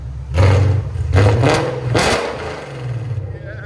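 A 2021 Ford Mustang GT with its 5.0L V8 and Valvetronic Designs exhaust revs loud and close in three quick surging blips, each a deep roar that drops back toward a burbling idle.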